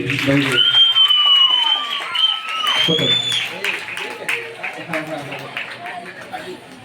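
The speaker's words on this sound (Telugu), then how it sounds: "అందరూ చప్పట్లు కొట్టి" An audience claps at a church semi-Christmas celebration, with a burst of applause that thins into crowd chatter, a few whistles and voices over the top.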